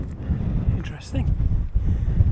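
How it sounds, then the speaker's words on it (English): Strong wind during a bike ride, a steady loud rumbling buffet across the microphone throughout, with faint other sounds passing through it. "There's a strong wind blowing, but I'm enjoying it."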